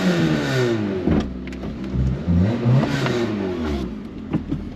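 A Peugeot 206 GT with a 2.0L 16-valve engine revs repeatedly, its pitch rising and falling in several surges over about five seconds, loud and close with no talking.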